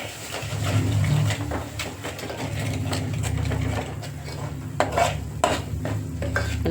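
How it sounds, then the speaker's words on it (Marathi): Utensil scraping and clinking in a pan as chicken is stirred and sautéed with homemade masala, steady metallic stirring over a low sizzle, with a few sharper knocks toward the end. "त्याला चांगलं परतून घेऊया."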